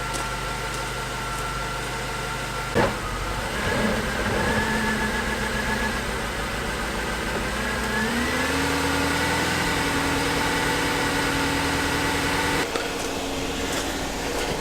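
A Jaguar XJ8 X308 engine idles steadily at close range, a continuous hum with a sharp knock early on and a slight pitch shift midway.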